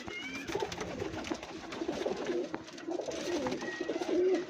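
Pigeons cooing, soft low repeated coos from several birds at moderate distance, fairly quiet over a faint background murmur.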